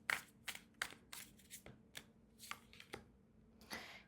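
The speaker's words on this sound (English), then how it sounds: "let's take a look at your tarot cards." Tarot cards being handled and shuffled, with a quick series of crisp riffling flicks and soft slaps spread irregularly over a few seconds, close and fairly quiet.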